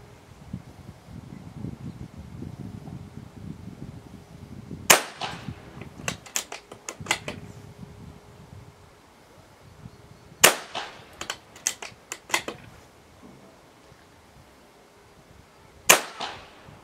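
An unregulated Daystate Wolverine 303 .30 caliber air rifle fires three sharp shots spaced several seconds apart. Each shot is followed by a quick run of clicks and clacks as the action is cycled, over quiet background noise.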